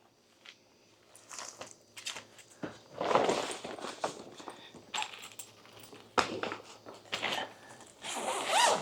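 Zippers on a Briggs & Riley carry-on suitcase are pulled open and closed, close, quick rasping bursts mixed with handling rustles and clicks of the luggage, with no voices.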